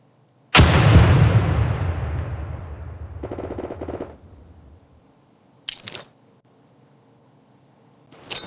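A frag grenade goes off in the video game America's Army 3 with a single loud, close blast that decays over several seconds, followed by a few short, sharper bursts.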